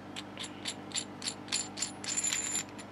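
A PL259 connector shell is screwed onto the end of a coax cable, giving a quick series of about a dozen small, close metallic ratcheting clicks in an uneven rhythm.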